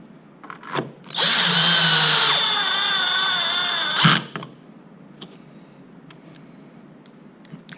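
A power drill driver on a low torque setting fastens screws into a plastic zip handle, a loud close whining burst lasting about three seconds, followed by quieter handling noises.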